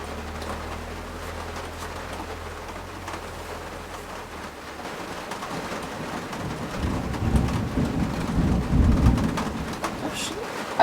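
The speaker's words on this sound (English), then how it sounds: "a thunderstorm rolled through the area" A thunderstorm in the hills brings a long, deep rolling rumble of thunder that builds toward the end over steady rain, with birds calling faintly and some low talk in the background.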